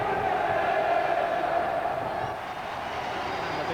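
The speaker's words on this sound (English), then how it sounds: "the biggest cheer of the afternoon at the county ground greets the arrival of the player-manager Steve McMahon" Football crowd at the County Ground during Swindon Town vs Stockport County, a steady roar of cheering and noise from the stands, broad and continuous, easing slightly toward the end.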